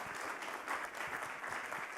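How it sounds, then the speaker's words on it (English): An audience at an awards event claps for the jury members: a brief, full burst of sustained applause from a crowd, steady and fairly even for its whole length. "let's give a big round of applause to the jury members once again"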